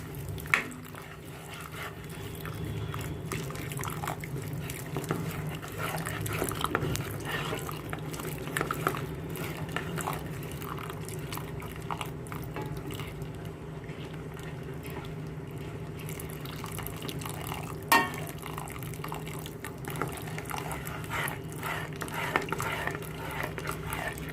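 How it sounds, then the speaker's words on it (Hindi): Water trickles slowly into a pan of Uttarakhand bhatt dal while a spoon stirs continuously to prevent lumps, producing soft, faint liquid swishing and scraping against a low kitchen background hum. "धीरे धीरे पानी डालते जाएंगे और चलाते जाएंगे इसको।"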